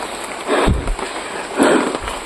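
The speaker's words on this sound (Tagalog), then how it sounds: "Umuulan na po mga idol." Steady rain hiss fills the scene at night, with a couple of low thuds or rustles rising out of it and no speech.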